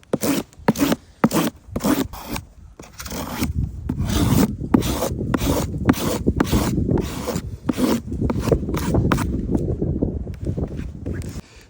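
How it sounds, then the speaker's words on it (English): A knife blade is stropped back and forth across a cardboard box. Repeated rough rasping scrapes start in short separated strokes, then merge into a faster, continuous rubbing, close and fairly loud. "Strap your knife across the cardboard."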